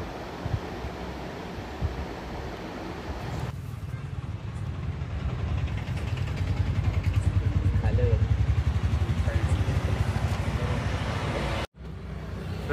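A motorbike ridden on an evening road gives off a steady engine drone and road rumble that grows heavier partway through. Someone talks over the noise, and near the end a brief dropout cuts in.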